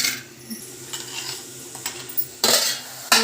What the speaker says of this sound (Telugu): ఇలా మూత వేసుకుంటే కాసేపు మగ్గుతుంది.